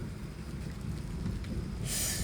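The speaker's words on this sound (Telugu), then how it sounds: "ఫుల్ వర్షం పడుతుంది" Steady rain falls with a dense low rumble and hiss, fairly distant and even, no voices.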